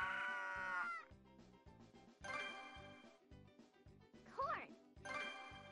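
A cartoon sheep bleats in a children's animated show, with a wavering bleat near the end set against a bouncy, rhythmic musical backing with plucked and chiming notes.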